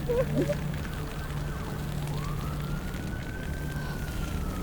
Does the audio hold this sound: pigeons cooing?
no